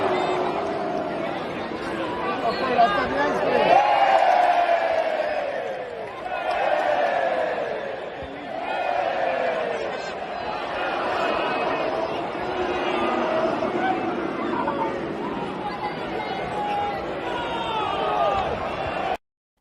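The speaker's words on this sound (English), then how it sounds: "So that was a crowd entertaining themselves." Football match crowd in the stands entertaining themselves, a broad swell of many voices singing and chanting in waves, with occasional sharp bangs or claps rising out of the babble.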